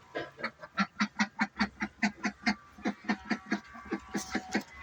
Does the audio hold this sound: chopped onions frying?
no